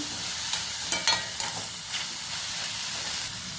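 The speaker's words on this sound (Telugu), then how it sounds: "బాగా మగ్గిస్తున్నానండి" Spinach (palak) and tomato curry simmering with milk in a pan, a steady soft hiss of gentle cooking with a few faint stirring clicks, close and quiet.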